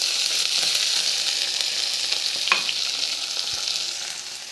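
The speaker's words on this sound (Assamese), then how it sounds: "এইফালে কেৰাহীত তেল দিলোঁ, পিঁয়াজ দি দিছোঁ।" Onions frying in oil in a kadai wok, a loud, steady close-up sizzle with faint stirring scrapes and no talk.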